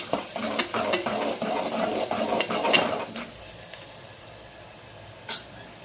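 A spoon scrapes and stirs through a pan of tempering spices with turmeric added, soft sizzling and clinks for about three seconds before the sound drops to a quiet hiss, then one sharp knock near the end.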